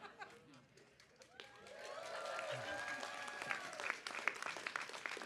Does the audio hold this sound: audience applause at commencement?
yes